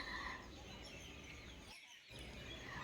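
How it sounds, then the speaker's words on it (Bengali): Birds call continuously over a steady hiss of ambient noise at a railway station platform, several voices overlapping at a distance, with a brief dip in sound midway. "চারপাশে শুধু পাখির আওয়াজ পাচ্ছি স্টেশনে যেন শুধু পাখি রয়েছে"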